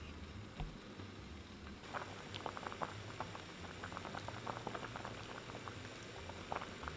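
Chicken soup with red dates bubbles steadily in a covered pot, a soft continuous simmer of small pops and gentle patter heard up close with no talking.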